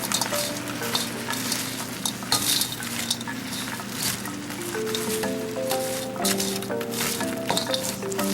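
Carrots and broccoli stir-fry in a hot pan for vegetarian fried rice, with a steady sizzle and intermittent scraping and clinking of a utensil against the pan, heard over a continuous tonal background.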